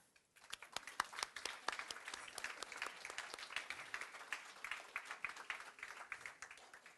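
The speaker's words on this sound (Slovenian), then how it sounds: "mislim, da se lahko zahvalimo panelistom z enim aplavzom" An audience applauds the panelists at the close of a round-table discussion on agricultural policy, a dense, steady patter of many hands clapping at moderate loudness for several seconds before tapering off.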